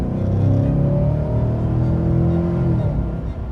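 Deep, steady rumble from the engine of a GMC Sierra 1500 pickup truck with aftermarket upgrades, held at a sustained rev with a slight rise in pitch, loud and close with no talking.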